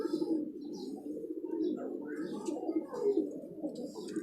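Pigeons coo in low, throaty murmurs throughout, several birds overlapping close by, with faint chirps from other birds higher up.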